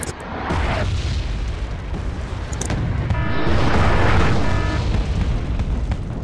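Heavy artillery fire and explosions in the video game Wargame: Red Dragon form a continuous loud, rumbling barrage, with booms rolling into one another and a swelling roar midway, with no talk.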